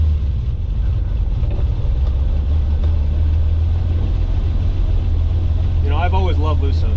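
A Ferrari 250 GT Lusso engine idles and warms up with a steady low rumble, close by, while someone talks over it.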